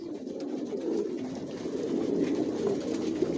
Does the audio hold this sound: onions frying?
no